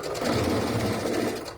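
A sewing machine stitches a quarter-inch seam on a big quilt block, a close, steady mechanical whir running continuously without pause.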